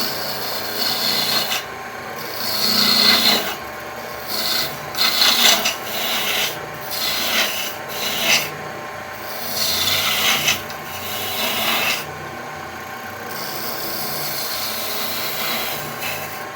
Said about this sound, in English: I'm going to use a small gouge to do that